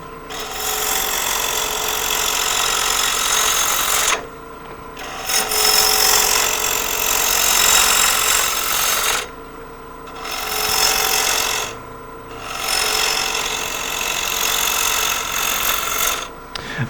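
A bowl gouge makes a pull cut while shaping a shallow wooden bowl on a lathe, giving a steady close scraping rasp in long passes broken by brief pauses.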